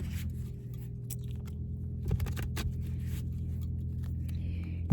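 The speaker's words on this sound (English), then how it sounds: "So let's give these a good ruffle shuffle." A Lenormand card deck is ruffle shuffled by hand, giving a soft riffling patter and a brief flurry of crisp card snaps in a quiet room over a low steady hum.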